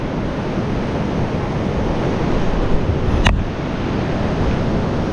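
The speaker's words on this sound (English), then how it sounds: "I gotta try to time the water to get around this corner without getting my feet wet" Ocean waves wash and roar continuously around a rocky corner of Second Beach on the Washington coast in Olympic National Park, loud and close with wind rumble, a brief sharp knock midway.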